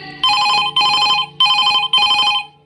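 A telephone rings with four evenly spaced electronic trills, loud and close, with short gaps of silence between them and no voices.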